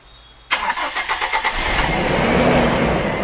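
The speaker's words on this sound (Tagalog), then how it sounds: "I-start natin ang engine nito." A car engine cranks with a quick run of starter pulses, catches and settles into a loud, steady but slightly uneven idle, misfiring and surging, during vacuum or air leak troubleshooting.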